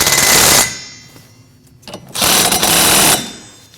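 A power tool tightens 15mm nuts on a 2014-2023 Jeep Cherokee starter in two loud, close, rattling bursts separated by a quieter gap with small clicks.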